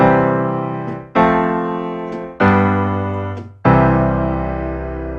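Handbells playing four sustained block chords, each struck together and ringing out with a slow fade before the next, clear and close with no talking.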